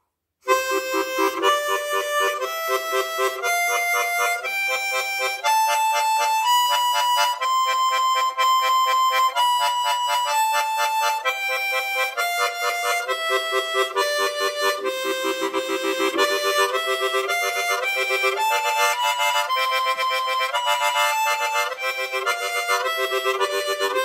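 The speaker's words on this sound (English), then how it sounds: "then you could play 8s with your tongue." A harmonica played with tongue slaps sounds a steady, unbroken run of quick eighth-note chords for over twenty seconds, each attack sharply clipped, close and loud with no speech.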